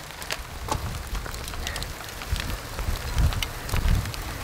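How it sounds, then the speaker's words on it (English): Rain falls during a cycling recon ride over wet cobbles of the Paris-Roubaix route in northern France, a steady broadband patter with gusty wind noise and low rumbling surges, fairly close and without speech. "Now it's raining."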